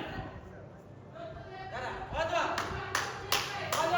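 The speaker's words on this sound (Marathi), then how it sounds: "काय आता वाजवा टाळ्या" Scattered hand clapping from people at a Pune sound association meeting, starting sparse and growing into a few sharp bursts near the end, with voices talking underneath.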